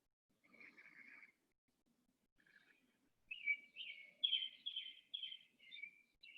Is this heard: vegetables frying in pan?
no